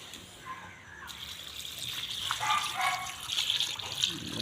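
Water is poured over earthworm bait to wash it, a close trickling and splashing that grows slightly louder over a few seconds.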